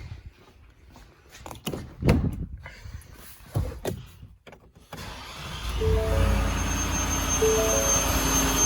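A truck engine fitted with a Vortech V3-SI supercharger cranks and fires inside a shop after some clattering handling sounds, then settles into a loud, steady idle with a high supercharger whine on top.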